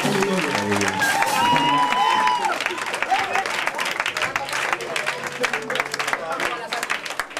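An audience at a French-speaking gospel worship performance claps and applauds, a dense sustained patter with voices over and through it, fairly loud throughout.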